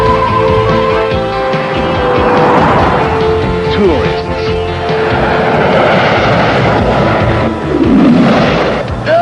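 A Harrier jet roars overhead in a cartoon chase scene, a loud sweeping engine whine rising and falling as it circles, with swooshing passes and rumbling effects behind the action.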